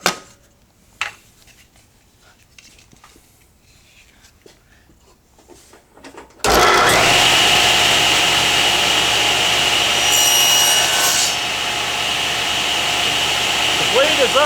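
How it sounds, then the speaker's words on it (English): A table saw ripping black walnut boards on edge with the blade raised half an inch: quiet shop sounds and a few knocks, then the loud steady roar of the cut, sustained and close to the end. "then I'll raise the blade up to 1/2 inch and run the boards through on edge"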